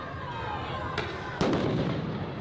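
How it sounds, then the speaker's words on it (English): Flashbang grenades go off in an Apex Legends match, two sharp bursts about half a second apart, the second louder, over a steady bed of game noise and background voice. "They're already deploying flashbangs."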